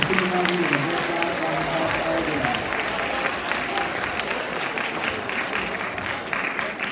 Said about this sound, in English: that gives them a huge round of applause